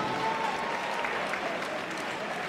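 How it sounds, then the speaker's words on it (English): Applause from a boxing audience at a Bolton fight night at the Toughsheet Stadium, dense steady clapping filling the whole moment at moderate loudness with no voice over it. "Let's put yourself a round of applause for both boxers."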